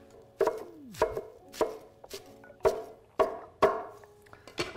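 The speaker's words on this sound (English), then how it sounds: "I will just chop it to smaller pieces so that we can put it in the whole dish like kind of a spinach" Greens are chopped into smaller pieces on a board, with around eight sharp, close knife strikes at a steady, unhurried pace, each leaving a faint ringing tail and no speech.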